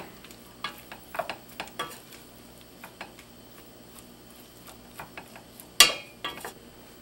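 A spoon stirs melted butter in a pan for beef stroganoff, with irregular clinks and scrapes against the metal over a faint sizzle and one sharp louder knock near the end.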